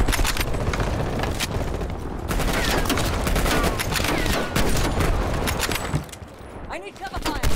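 Sustained gunfire from Call of Duty Black Ops Cold War: dense, rapid bursts of shots and booms run almost continuously at close range, with a short lull near the end before firing resumes.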